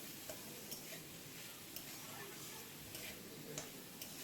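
Green chillies and turmeric are stirred in a pan, giving a faint, soft sizzle with light periodic scraping taps of the spatula at a slow, steady rhythm.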